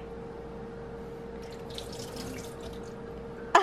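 Water runs steadily from a tap in a low, even stream, with brighter splashing in the middle and a sharp clatter at the end.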